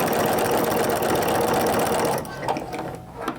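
A sewing machine stitches strips of oven mitt fabric, a loud steady whirring run for about two seconds before stopping, followed by faint handling noises.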